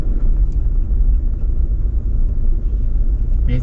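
A car driving, heard from inside as a steady loud low engine rumble and road noise throughout, with no talk.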